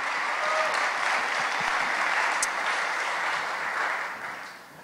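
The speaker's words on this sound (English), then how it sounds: "Can we give them a round of applause?" A conference audience at W3Conf applauds the organizers in a dense, steady wash of clapping that holds for several seconds and then fades at the end.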